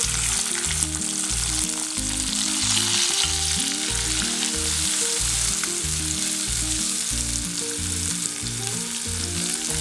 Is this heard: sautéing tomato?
yes